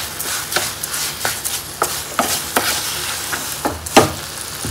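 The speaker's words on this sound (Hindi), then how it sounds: "और इससे अच्छे से इसको हम चलाएंगे" A spoon stirs sugar into pumpkin and reduced milk in a pan, giving repeated scraping strokes in an uneven rhythm over a soft background sizzle, close and fairly loud.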